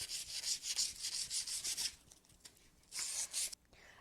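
Dry, scratchy rubbing on a wooden picture frame being distressed, in steady close strokes for about two seconds, a brief pause, then another burst of rubbing before it stops.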